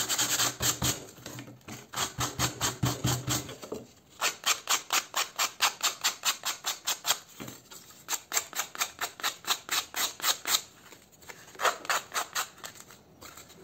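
A cut piece is hand-sanded for a clean finish: brisk, rhythmic back-and-forth rasping strokes, close and steady, with a brief pause midway and no talking.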